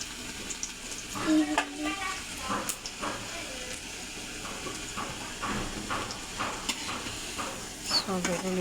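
Garlic frying in a pan while being stirred for a bassaru dish, a continuous close sizzle with scraping and clinking of the spoon against the pan at irregular intervals.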